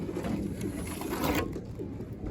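Homing pigeons coo softly in a loft, a low murmuring burble that carries on steadily at close range, with scattered rustling and faint background noise.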